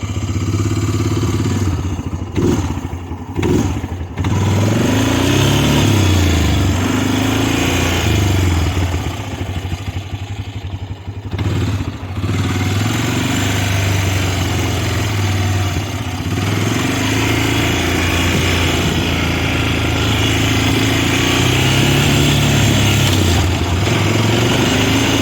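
A fuel-injected Honda FourTrax 300 ATV engine runs loud and close, revving up and dropping back toward idle in repeated surges, with mechanical clatter and no talk.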